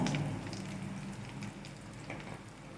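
Curry leaves and asafoetida sizzle in hot oil while a white chickpea sundal is being made, a steady close crackling hiss that fades a little after its loud start, with no talking.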